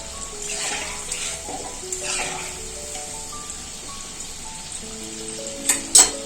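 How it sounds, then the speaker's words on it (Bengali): Palm fruit fritters (taal fulluri) bubble in hot oil with a soft, steady frying hiss, quiet and close, with a few brief clinks near the end. "এইভাবেই তালের ফুলুরিগুলো সব ভেজে নেব।"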